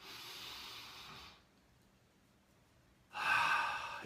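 A slow, deep inhale through the nose during a guided breathing exercise, soft and close, lasting over a second, followed by a pause and then a stronger, breathier rush of air.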